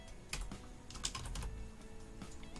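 Rapid keystrokes on a computer keyboard come in short irregular bursts, close and clear, with no voices.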